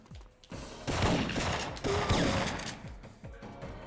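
Video-game gunfire from Syphon Filter, fought in stronghold catacombs: bursts of loud, close shots in quick rapid volleys, with short pauses between the bursts.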